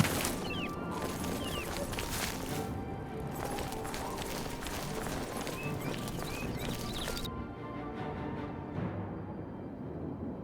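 Hooves of a horse in the video game Oblivion pound fast and steadily in a gallop amid a dense noisy background, with a brief whinny faint in the mix.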